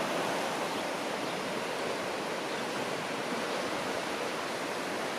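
Waves wash constantly onto a small, quiet beach in Mazatlan, a broad even roar of surf with no distinct breaks and no voices.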